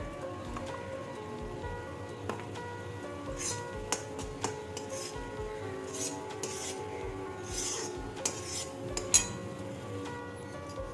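Fried besan and flour mixture for motichoor laddu is stirred in a pot, making soft repeated scraping and light clinking, close and fairly quiet, with no talk.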